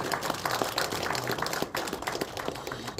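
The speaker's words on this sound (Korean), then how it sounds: "우리 박수." Audience applause at a Korean citizens' forum year-end gathering in 2024: dense, steady clapping from a crowd that fills the room throughout, with no voices over it.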